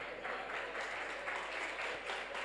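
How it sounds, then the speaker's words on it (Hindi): Audience applause at a Jain religious discourse on Mahavir Jayanti, a steady, moderately faint wash of many hands clapping that holds evenly through the clip with no talk over it. "ऐसी तालियां बजाने से काम नहीं होगा।"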